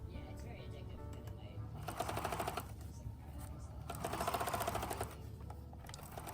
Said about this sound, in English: I then flatlined the pieces together by sewing a long basting stitch in the seam allowances of the skirt